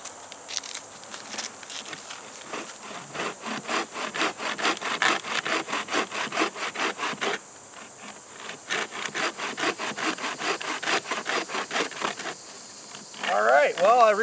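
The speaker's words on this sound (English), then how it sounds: "We have a Bushcraft bow saw made out of sticks." A bushcraft bow saw built from sticks cuts through wood in a steady run of rasping back-and-forth strokes, close and loud, pausing briefly midway before resuming, with a voice coming in at the end.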